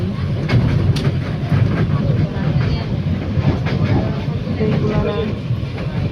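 Steady rumbling rattle inside a crowded moving passenger train carriage travelling to Dhaka, Bangladesh, loud and continuous, with faint voices mixed into the background.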